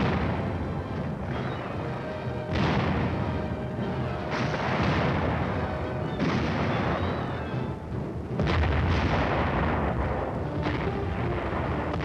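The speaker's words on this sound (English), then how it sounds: "a tank adds its lethal punch." A tank firing in 1951 Korean War combat, with a series of heavy booms roughly every two seconds, each followed by a long rumbling decay over a dense, loud background.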